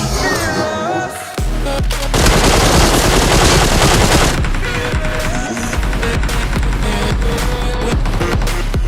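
Automatic gunfire in the battle royale game PUBG: loud, rapid bursts of shots and sharp bangs, near and continuous for several seconds after a brief quieter opening.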